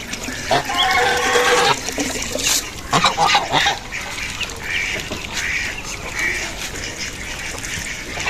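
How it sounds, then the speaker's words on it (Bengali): A flock of black Chinese ducks bathing in water quack and honk loudly nearby, with bursts of splashing and calls overlapping, then quieter scattered quacks. "এইখানে আমাদের সব হাঁস কত সুন্দর করে গোসল করতেছে, দেখেন পানিতে নেমে"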